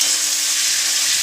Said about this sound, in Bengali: এবার চিংড়ি মাছগুলো দিয়ে একটু ভাজা ভাজা করে নেব।